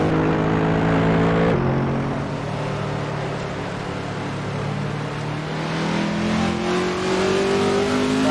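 A Lotus race car in the Assetto Corsa racing game at the Red Bull Ring, its engine droning loudly, dropping sharply in pitch as it brakes for a corner, then climbing again as it accelerates, with no voices.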